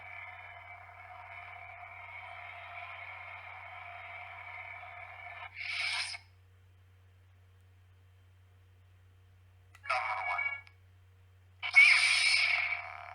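A Sabneo V7 lightsaber in an unstable sound mode gives a buzzing, crackling hum for several seconds, then stops, followed by short bursts of harsher crackle and fizz separated by near silence.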